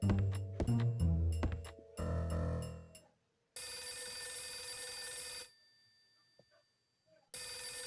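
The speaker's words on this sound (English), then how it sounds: "damn, this is a bad time for the phone to ring." A telephone rings with a sharp electronic tone in the Last Window video game, heard in loud repeated bursts broken by short silences, with game music or tones at the start.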